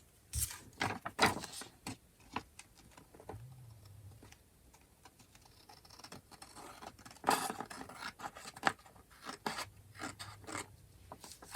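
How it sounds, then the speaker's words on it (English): Scissors snip through paper and craft material at a journaling desk, a few crisp cuts in a loose irregular rhythm with small handling rustles between, close and quiet, no talking. "this one, I think I might have to just cut it."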